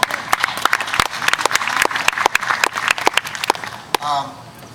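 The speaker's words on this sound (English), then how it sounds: "Yeah, applaud that. You should applaud that." Audience clapping at a rally, a steady crackle of many hands with sharp individual claps standing out, fading near the end as a voice begins.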